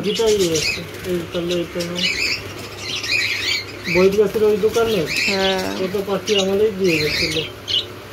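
Pet birds, one large with a pink beak, squawk loudly in repeated harsh bursts at close range, with a few softer chirps mixed in and people talking in the background.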